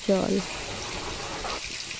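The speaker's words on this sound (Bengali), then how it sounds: "জল দিয়ে দিলাম" Water gushes briefly into a kadai of paneer and vegetable curry, a short splash near the start that fades into a soft, steady wash while a voice briefly speaks.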